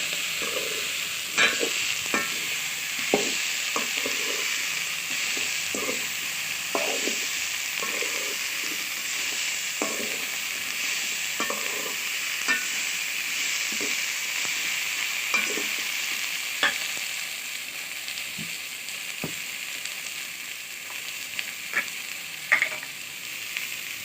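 Broad beans stir-fried with salt in a pan hiss steadily while a spatula scrapes and taps the pan in frequent uneven strokes, close up and fairly quiet, with no speech.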